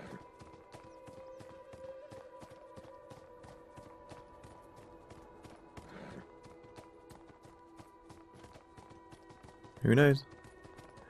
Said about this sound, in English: There's another horse.